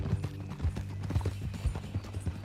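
Horse hooves clip-clop at a steady walking rhythm in Red Dead Redemption 2, loud and close, with faint game ambience beneath.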